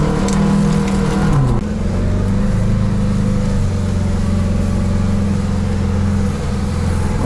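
Off-road vehicle engine labouring in second low gear, a steady loud drone with a pitch dip early on, then holding constant revs close by.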